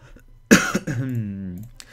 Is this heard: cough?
yes